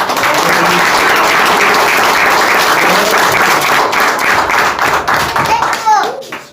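A church congregation gives a dense, loud round of applause during a worship service, sustained for several seconds before thinning out and fading at the end.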